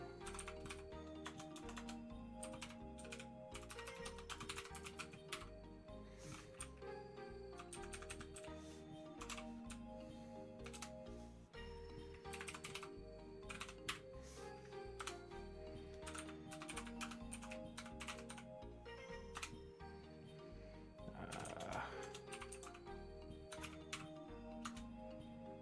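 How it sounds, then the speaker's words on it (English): Rapid keystrokes on a computer keyboard patter in uneven bursts over continuous background music, soft and close-miked, with no talking. "I'm just typing it all out."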